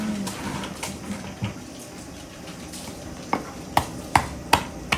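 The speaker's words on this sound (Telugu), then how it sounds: "పావు కేజీ ఉల్లిపాయలు వేస్తున్నాను" A quarter kilo of onions goes into a hot pan for spicy chicken ulli kaaram, producing a steady sizzle with stirring and a few sharp ladle clicks against the pan toward the end.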